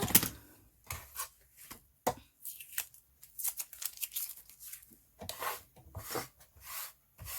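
Fabric binding being cut hastily, with quick separate snips and crisp cutting strokes in short bursts and brief pauses between them.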